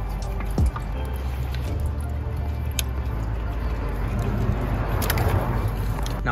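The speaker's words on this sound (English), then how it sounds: "go ahead and open that valve to drain all the fuel" Fuel trickles and drips steadily from a truck's drain valve into a drain pan, a continuous close splashing with a few sharp ticks and clinks along the way.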